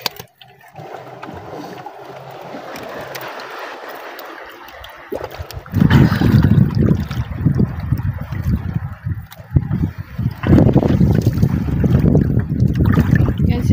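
Wind buffets the microphone in heavy, rumbling gusts around a boat, quieter at first and then growing loud and rough.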